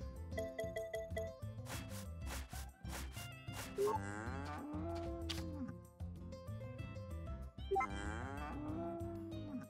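Cows mooing in the farming video game Story of Seasons: A Wonderful Life on Switch, two long moos a few seconds apart over steady background music and game sounds, with no talking.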